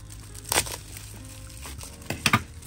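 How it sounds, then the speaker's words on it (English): Two close crinkly bursts of bubble wrap being snipped with scissors and crumpled, the second a quick double crunch, with quiet rustling in between. "Get some scissors, cut this bubble wrap off."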